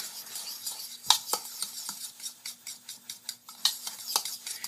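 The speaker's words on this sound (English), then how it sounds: "Got to make sure all the spices are thoroughly mixed." A spoon stirs spices into pumpkin pie filling in a bowl, producing a rapid run of soft wet scrapes and light clinks against the sides, close and fairly quiet.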